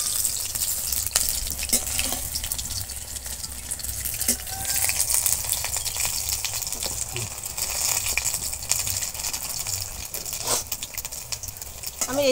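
Banana flower fingers frying in hot oil, a continuous close sizzle and bubbling with occasional stirring and soft crackles, no talking.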